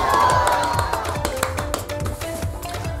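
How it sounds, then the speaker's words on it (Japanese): A small group claps in a brisk scatter of sharp, close hand slaps, with a faint tonal hum underneath, greeting a New Year's Day announcement of a tennis racket change. "拍手"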